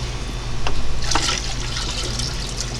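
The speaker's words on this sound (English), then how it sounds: "So I just refill the tank and I'm done." Water pouring into a tilapia fry tank, a splashing, gurgling stream that swells then settles into a steady flow over a low background hum, close by and alone.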